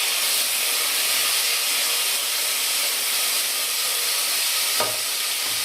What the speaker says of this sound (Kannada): ಟೊಮೊಟೊ ಒಂದು ನಿಮಿಷ ಫ್ರೈ ಮಾಡ್ತಾ ಇದ್ದೀನಿ.